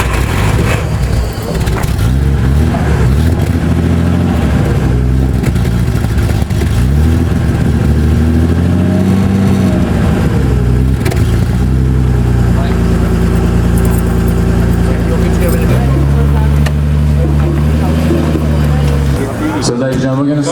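Continuous engine rumble from several classic concours cars moving past in a parade at Tegernsee, with revving and shifting tones, loud and close throughout.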